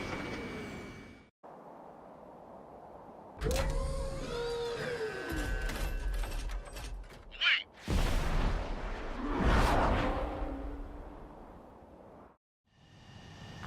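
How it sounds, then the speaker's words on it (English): Ace Combat 7 video game scene of UAVs launching from a carrier: loud rushing, booming launch noises with whooshing bursts and a sharp swell, mixed with game music and effects, no talk. "UAVs ready to launch. Away!"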